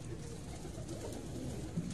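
Soft cooing of pigeons kept on a rooftop by a pigeon fancier, a low continuous burble under a constant hiss of background noise, faint and uninterrupted by talk.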